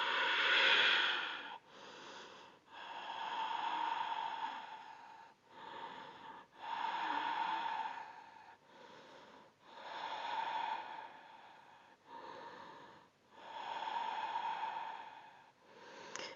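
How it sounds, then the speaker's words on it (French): Deep, slow breaths during a vinyasa yoga flow, about five long inhale-exhale cycles in a steady rhythm, close and clear with short pauses between them. "On va prendre encore 5 respirations."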